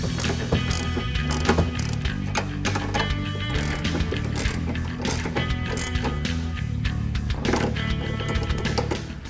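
Ratchet tightening coilover suspension bolts on a 2015-2020 Mustang, giving a dense, steady run of rapid clicking and metallic clatter, loud and close throughout.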